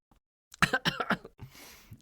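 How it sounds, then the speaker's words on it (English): A single rough cough, a few sharp bursts close together, trailing off into a breathy exhale. "I cough when I lie."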